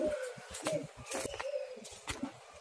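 Soft pigeon coos repeat in short low bursts, close by, with faint birdsong and background noise around them.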